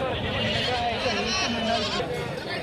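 Goats bleat amid a busy, crowded weekly livestock market in Bhigwan, India, with steady background chatter and voices throughout.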